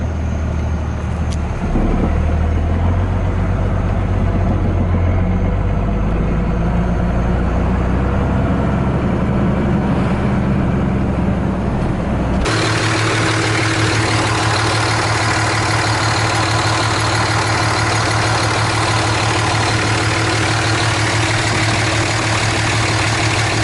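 A truck engine idles steadily throughout, a low constant rumble with a brief shift in tone partway through, no voices.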